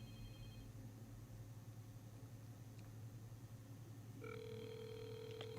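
A telephone line being dialled during a radio call-in show, with a low steady hum and a ringback tone coming in near the end, faint and alone.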